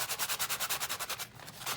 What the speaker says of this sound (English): I'm just going to do a little bit of sanding on here with the medium sander